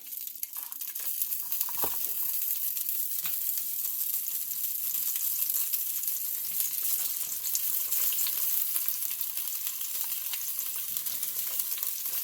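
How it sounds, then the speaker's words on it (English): Crabs searing in hot oil in a pan for a Jamaican jerk crab dish, a steady loud crackling sizzle with scattered pops and spits that holds throughout, close up and without voices. "I'll start by searing my crabs"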